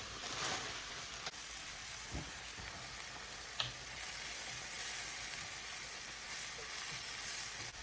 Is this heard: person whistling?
no